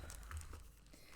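A plastic bag is handled up close, giving faint, quick crinkling rustles in a brief irregular flurry.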